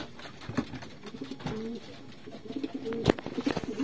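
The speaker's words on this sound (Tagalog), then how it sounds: "So ito yung blue bar mga kalapatids na pabalik ko." A blue bar homing pigeon, just returned to its loft, coos in repeated low, throaty phrases, fairly quiet against a light background of rustling and occasional knocks.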